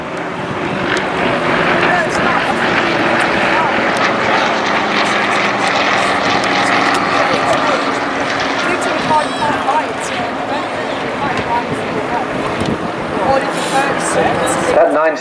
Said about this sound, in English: That 9-cylinder air-cooled radial engine, as I said, producing about 360 horsepower